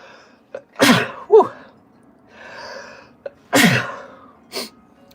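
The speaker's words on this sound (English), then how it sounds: "I got to sneeze, man." A loud, close sneeze with a sharp intake of breath before it, followed by a second sneeze and a short exhale, no talking.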